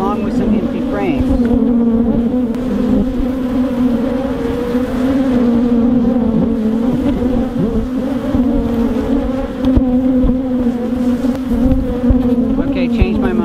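Honeybees buzz steadily around an opened hive, a loud, dense, continuous drone of many wings close by, with a few individual bees swelling in volume as they fly near.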